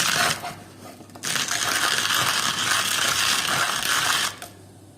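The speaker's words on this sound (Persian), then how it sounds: "خب شما اینو آسیاب میکنید." Coffee beans crushed in a grinder, a loud continuous grinding whirr that starts briefly, pauses, then runs steadily for about three seconds before cutting off, all without talk.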